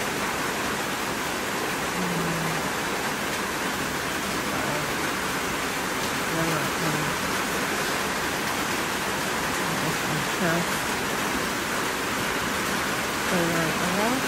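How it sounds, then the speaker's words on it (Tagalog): Heavy rain pours steadily as a dense, even hiss throughout, with a voice speaking intermittently underneath it during crochet work. "Mas lalong lumakas ang ulan."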